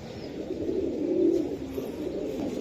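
A young racing pigeon, about two years old, gives a low, soft rolling coo that swells in the middle and fades, heard close up over faint background noise.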